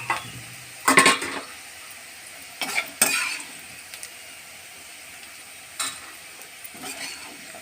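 Bitter gourd pieces lightly frying in oil, with a low, steady sizzle under a few bursts of scraping and clinking from a spoon or strainer against the pan, close, with no talking.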